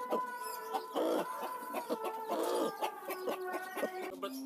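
A free-range village hen sits on a nest of freshly hatched chicks and gives repeated throaty clucks and short calls at close range. Fainter chick peeps can be heard between the clucks.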